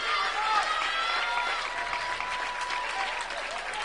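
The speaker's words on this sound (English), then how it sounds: "Stateliner fans showing their appreciation with applause as the second period ends with Agins on top 4-2." Wrestling fans at a Stateliner dual meet against Parkland applaud steadily as a period ends. The clapping is dense and sustained, and crowd voices and an announcer's voice carry over it throughout.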